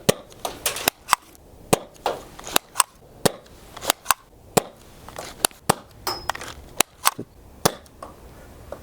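Nerf Fortnite toy blaster shooting foam darts, a quick series of sharp snapping pops with short gaps between them, close and crisp, with no talk over them.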